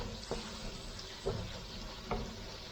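Pork frying in a pan for a seafood-in-coconut-milk dish gives a steady sizzle with a few soft stirring knocks at even intervals, close and alone.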